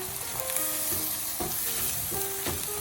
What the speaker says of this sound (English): deglaze the pan here.